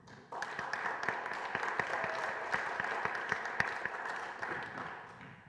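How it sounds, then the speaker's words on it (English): A gathering of Progressive Democrats breaks into audience applause, heard as a fairly distant, even patter of many hands with sharper individual claps poking through, tapering off near the end. "So this is our chance to applaud you."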